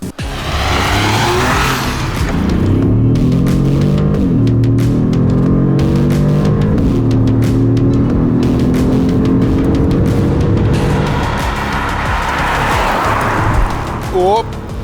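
A Mini Countryman C with a 170-horsepower three-cylinder mild hybrid engine and robotised gearbox drives along, its steady engine and road noise rising and falling continuously throughout, with someone talking over it.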